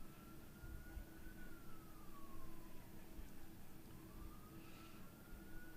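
An ambulance siren wails faintly in the distance during a girls' high school soccer game, its pitch rising and falling slowly above steady outdoor background noise.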